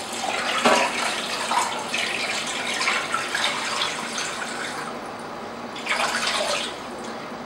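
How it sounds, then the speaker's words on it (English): Cold water is poured from a tap into a pot over a whole chicken for homemade broth, a continuous splashing gush that swells and fades in bursts, heard close up with no talking. "And then I'm going to add some cold water"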